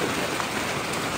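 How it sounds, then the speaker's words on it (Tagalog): Heavy rain pours down in a steady, dense hiss, close and loud throughout with no talking. "Ay grabe ka ulan."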